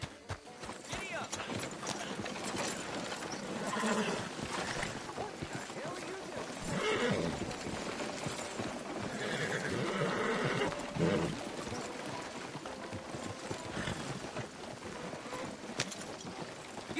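Horse galloping and neighing in Red Dead Redemption 2: continuous rapid hoofbeats with whinnies rising over the clatter, set in a busy, fairly loud game soundscape.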